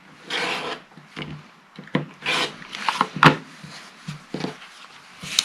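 Fabric is cut across the corner of a square for half square triangles, likely with a rotary cutter along a ruler, giving a series of close, dry rasping strokes and rubs with short pauses and light taps in between.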